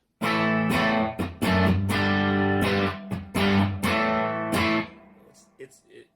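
Electric guitar through a Creation Audio Labs Mark 423 boost pedal strums chords in several loud, sustained hits, with a thick, slightly gritty tone and a fading ring at the end.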